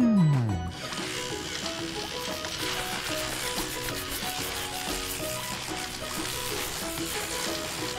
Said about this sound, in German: Jetzt kommen die Bürsten.